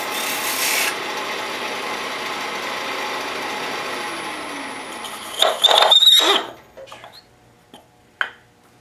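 Woodturning tool cutting down a spinning wooden box on a lathe, a loud continuous scraping rasp that holds steady and then stops with a few bumps and knocks.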